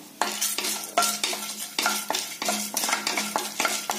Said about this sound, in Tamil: கடலம் பருப்பு, உளுந்தம் பருப்பு, சீரகம் இதையெல்லாம் நல்லா பொன்னிறமா வறுத்துக்கலாங்க இந்த எண்ணெயில.